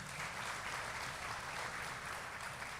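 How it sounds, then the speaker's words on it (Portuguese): A church congregation claps together at a Portuguese-language worship service with a water baptism, a dense steady wash of applause filling the room without pause. "Aplauda o Senhor"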